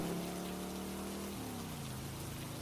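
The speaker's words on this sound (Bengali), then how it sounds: "সে কি মুষলধারে বৃষ্টি হচ্ছে।" Steady, dense rain pours down at night without a break, with a low droning tone underneath that shifts pitch partway through.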